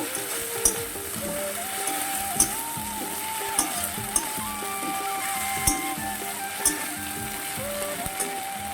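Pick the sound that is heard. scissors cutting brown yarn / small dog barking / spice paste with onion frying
spice paste with onion frying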